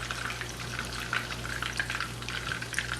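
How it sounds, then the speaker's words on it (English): Steady sizzle of stir-frying in a pan while cooking sweet and sour beef meatballs, with soft scraping and stirring crackles running continuously over a low hum, close and moderately loud. "I'm going to start my stir frying."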